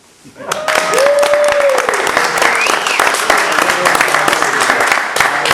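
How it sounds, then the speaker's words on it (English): Studio audience applause during an interview about metal roofing, loud and sustained for about five seconds, with a brief tonal sweep and some talk or whoops mixed in the crowd noise. "This is where you guys clap."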